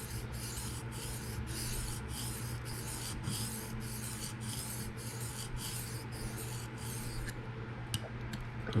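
Kunwu knife with a PM60 steel edge being sharpened freehand on a stone during burr removal: a quiet, regular series of rasping strokes, about a dozen even passes close up with no talk.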